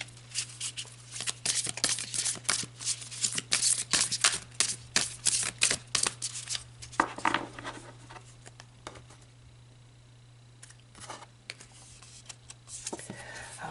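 Tarot cards are shuffled close by in a quiet room, giving quick bursts of crisp riffling and flicking patter, then fading to sparse soft handling taps near the end.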